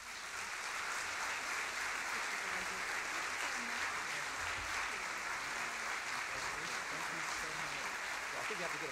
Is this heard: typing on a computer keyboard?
no